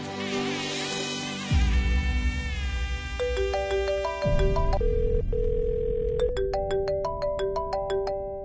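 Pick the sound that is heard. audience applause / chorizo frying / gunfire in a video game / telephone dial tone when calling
telephone dial tone when calling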